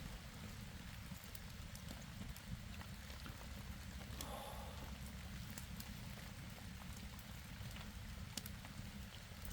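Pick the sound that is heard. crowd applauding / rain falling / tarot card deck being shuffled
rain falling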